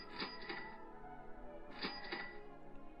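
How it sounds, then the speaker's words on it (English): A cash register sound effect on a PowerPoint back button plays twice, each a bright ringing cha-ching with a metallic drawer clatter, clear and close against a faint hum. "make that cash register sound"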